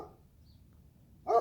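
A neighbour's dog gives one short bark at the end of an otherwise quiet moment outdoors at a residence.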